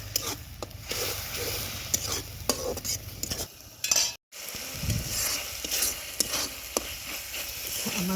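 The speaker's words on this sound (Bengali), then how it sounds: "ভালো করে কষাবো।" Spice paste of cumin paste, chili powder, turmeric and salt stirred and fried in a pan for a dried-fish and eggplant curry, with steady sizzling, scraping spoon strokes and a brief pause midway.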